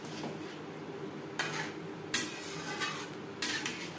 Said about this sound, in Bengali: গ্রেভির সাথে ভালো করে মিক্সড করে দেব।